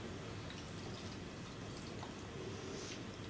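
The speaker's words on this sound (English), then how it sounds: "And then finally we're going to add 250 millilitres of water." 250 ml of water poured into cottage pie mince in a pan, a faint, steady wash of liquid running for a few seconds with no talking.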